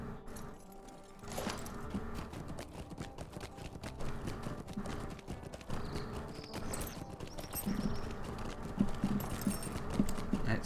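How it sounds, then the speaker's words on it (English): Horse hooves clip-clop steadily in the fantasy online game Lord of the Rings Online, a continuous quick rhythmic patter of footfalls mixed with background game music and ambient effects. "Why don't I just use the horse?"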